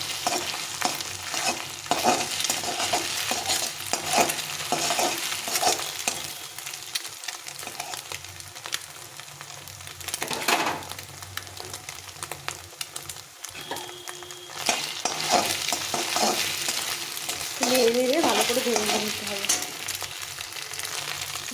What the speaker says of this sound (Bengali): ডিমটাকে ভালো করে ভেজে নিতে হবে